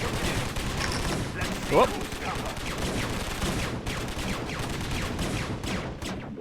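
In StarCraft Remastered, Legionnaire units fire rapid three-round bursts again and again, crackling steadily through the battle while a person talks over the gunfire.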